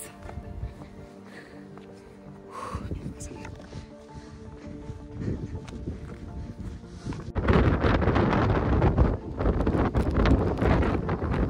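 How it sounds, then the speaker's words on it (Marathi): Strong gusty wind buffets the microphone at Rajmachi fort during a monsoon trek, moderate at first and then roaring much louder in the second half. "तुफानी वारा आहे."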